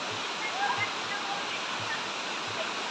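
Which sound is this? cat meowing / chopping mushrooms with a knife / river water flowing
river water flowing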